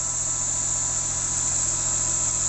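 A Daewoo Matiz engine runs at a steady idle just after a water pump replacement, not yet warmed up, giving a continuous close hum with an even low pulsing and a high whine over it, and no talk.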